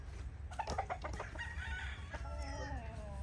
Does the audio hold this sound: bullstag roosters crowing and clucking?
yes